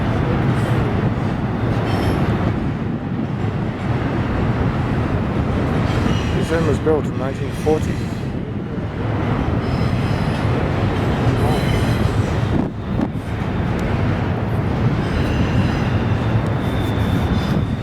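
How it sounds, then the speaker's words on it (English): A Southern Pacific train rumbles steadily across a railway bridge over a river in Yuma, Arizona, a continuous loud roar with metallic squeals and rattling wheels, while a person speaks briefly over it. "Train going across the railway bridge."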